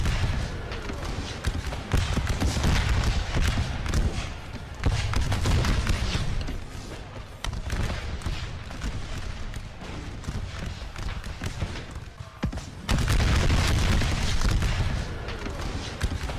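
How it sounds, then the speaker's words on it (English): Cannon fire from Civil War artillery in a Total War battle at the First Battle of Bull Run, 1861, booming within a dense, continuous din of gunfire and battle noise that surges loud and stays heavy throughout. "In this early action on Heri Hill, Rickett's cannoneers also opened fire toward the Henry House"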